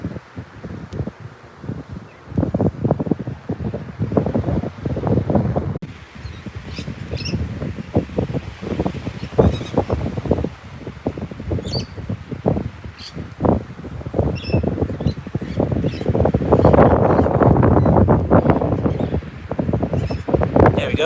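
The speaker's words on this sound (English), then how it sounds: "bit windy out here" Wind blows hard outdoors straight into the microphone, producing continuous buffeting gusts and rumbling, with some rustling and faint bird chirps behind it.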